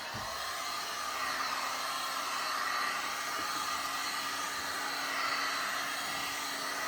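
A hair dryer blows steadily to dry fresh spray paint on a painting, a constant broadband whoosh with a faint hum, running alone at an even level throughout.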